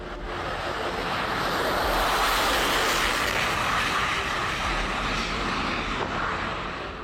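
A Tejas, India's indigenous light combat aircraft, in flight: a loud, steady broadband jet roar fills the whole stretch, swelling slightly in the middle, with no voices.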